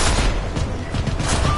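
Gunfire in the video game The Hand ex human comes as a dense, loud fusillade of rapid shots. The shots crackle continuously across the short moment with no pause.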